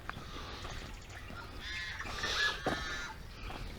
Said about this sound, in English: Listen to all the birds chacking over there.